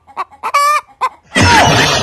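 A chicken gives a few short, close clucks and a brief drawn-out squawk, then a burst of loud broadband rustling ends the moment.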